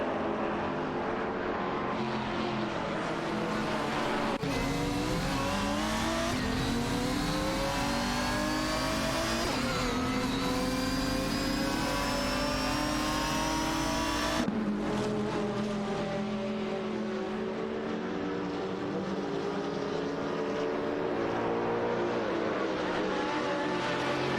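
AI-driven GT race cars, including an SEG and a Tauve Speed 12 GT, rev and accelerate in a racing video game, with layered engine whines climbing and shifting through gears, loud and continuous with no voices.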